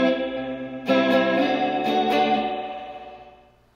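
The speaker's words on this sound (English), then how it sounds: "So I like to add spring reverb to this one." Electric guitar chords strummed twice, each ringing out with a splashy spring reverb before the sound fades away.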